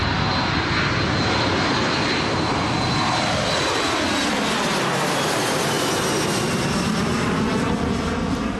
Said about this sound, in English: Planes take off and land every few minutes at this tropical island airport in the Gulf of Thailand.